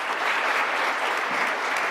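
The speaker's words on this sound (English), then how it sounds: "Please join me in a round of applause for our panelists" Dense, steady audience applause for a panel of speakers at an evening event, continuous clapping filling the whole stretch at an even, close level with no voices standing out.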